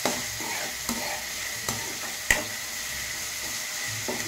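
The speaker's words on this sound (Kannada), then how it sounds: "ಒಂದು ಟೊಮೊಟೊ ಹಾಕೋಣ. ಒಂದು ಟೊಮೊಟೊ" Tomato frying in a pan for an egg dish, with a steady hiss and sizzle and a few sharp stirring scrapes and clacks of a utensil spaced through it, close and alone with no talk.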